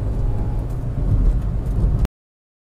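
A Hyundai Grand i10 car's engine rumbles deep and loud, building steadily for about two seconds close by before cutting off abruptly into silence.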